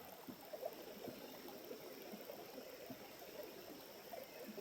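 Low creek flowing over rocks, a faint, steady trickle and gurgle heard from close by outdoors with no talk.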